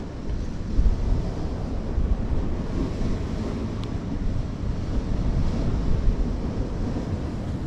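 Ocean waves and strong wind buffet the shore of Klein Curaçao, a small island, in a steady loud roar of surf with heavy wind rumble against the microphone throughout.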